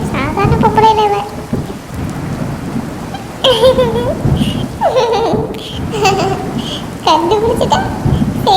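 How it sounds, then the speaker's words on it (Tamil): Steady rain with rumbling thunder outside in a cartoon comedy scene, a loud continuous downpour with repeated thunder rolls and swells, while cartoon voices talk over it. "வெளியில மழை அந்த பெய்யுது."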